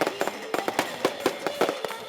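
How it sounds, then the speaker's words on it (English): Fireworks and firecrackers crackle in rapid, irregular bursts during the Danda Jatra street procession celebrating Lord Ram's journey, sharp pops fairly close and loud in quick succession. "Lord Ram's journey with his envoy is celebrated with fireworks."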